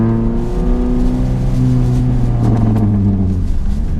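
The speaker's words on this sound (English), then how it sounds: "All right, now give it gas." A manual stick-shift car's engine revs as gas is applied, a loud close rumbling drone with pitch rising and shifting, holding steady before changing near the end.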